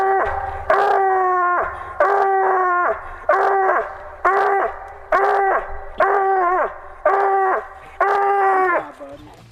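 Hunting hound baying at an animal it has treed: about eight long, drawn-out howling bays in a steady rhythm, loud and close, each one sliding down in pitch at the end.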